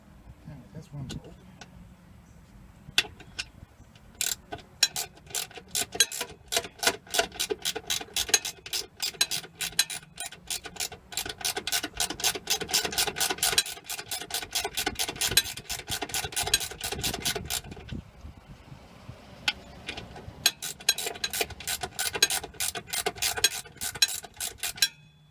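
A hand ratchet loosens a large bolt on a Cummins Onan generator in a Travato 59G camper van, its rapid clicking running in long close bursts with a brief pause near the middle, while a person talks over it.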